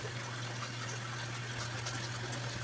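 Hot water from a water heater gushes steadily into a machine, a continuous rushing flow over a constant low pump hum, with no talk.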